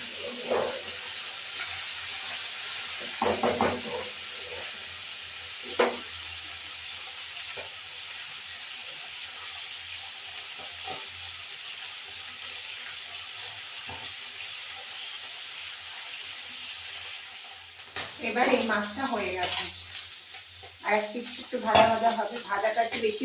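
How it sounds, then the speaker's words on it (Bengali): Tilapia fish fries in a pan with a steady sizzling hiss throughout, while someone talks intermittently over it. "মাছটা একটু ভাজা ভাজাটা হবে"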